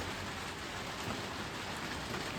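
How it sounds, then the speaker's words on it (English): Heavy pouring rain during two days of downpour around a leaky greenhouse, a dense, steady broadband wash with no letup, close and loud throughout, no voices. "Can you hear the rain? It is pouring."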